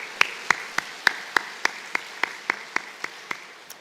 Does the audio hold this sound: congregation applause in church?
yes